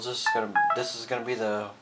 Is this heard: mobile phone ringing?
yes